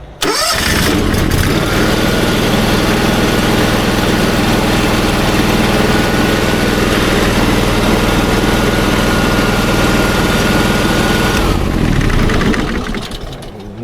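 A petrol engine on a pressure washer fires up after a choke pull and settles into a loud, steady run for about ten seconds before cutting out, with no talking.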